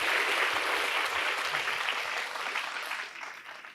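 Audience applause filling a church lecture hall, dense steady clapping from many people that stays loud and then gradually tapers off near the end.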